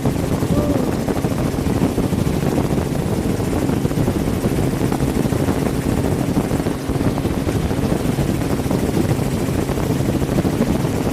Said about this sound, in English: Hanging out the helicopter a little bit.